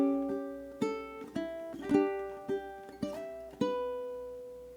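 Ukulele picking out a melodic phrase from a song, several plucked notes and slides ringing over a soft steady ticking pulse, quiet and close with no talking.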